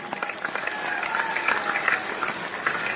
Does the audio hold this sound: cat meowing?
no